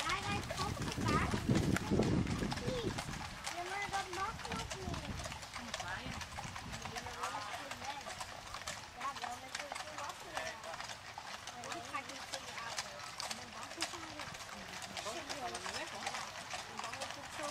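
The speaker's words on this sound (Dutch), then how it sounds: "Wij rijden op een paard." Horse hooves clip-clop steadily as a horse is ridden, a fast even rhythm running through the whole passage, close by, with people talking over it throughout.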